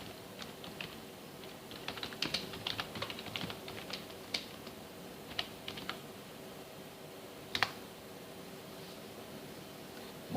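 Fingers typing on a computer keyboard in a quiet room, a faint, uneven patter of soft key taps with a few sharper presses, close by over a low background hiss.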